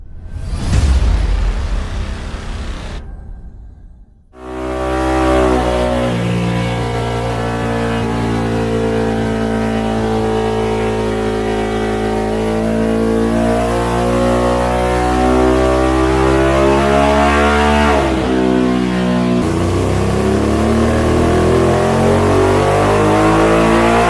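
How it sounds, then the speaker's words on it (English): A Ducati Monster 937 motorcycle revs hard on a dyno during a top-speed run through the gears. The loud, close engine roar climbs steadily in pitch, dips briefly at a gear change, then climbs again after a short quiet start. "this is me taking the bike up to 6th gear"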